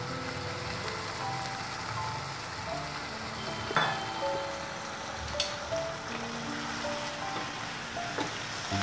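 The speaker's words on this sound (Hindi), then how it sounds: "अभी इसमें हम मेथी, ग्रीन मेथी हमने ली है चॉप करके वो डाल देंगे।" Chopped green fenugreek leaves sizzle in a hot pan for a fenugreek and banana curry, giving a dense, steady crackling hiss with a few sharper pops and clinks.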